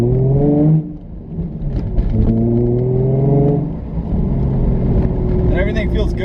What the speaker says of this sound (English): we're just gonna keep driving around, flooring it from 2000 RPMs